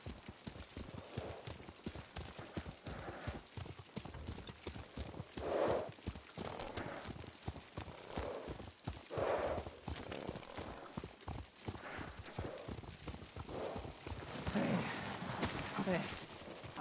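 Horse hooves clip-clop steadily at a riding pace across a Ghost of Tsushima game scene, the rhythmic beats continuing throughout while a horse whinnies and voices talk over the top.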